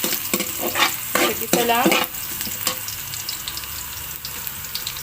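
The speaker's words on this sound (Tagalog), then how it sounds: "So, unahin natin ang bawang." Garlic sizzles in hot oil in a frying pan and is stirred with a utensil, bright steady frying hiss with scraping strokes, a brief spoken phrase over the start.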